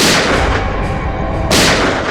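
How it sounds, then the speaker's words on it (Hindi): Gunfire in a tense crime drama scene, a loud, dense barrage of shots and booming blasts that fills the whole moment, with a second sharp burst partway through and no talking. "ये गोलियों की आवाज"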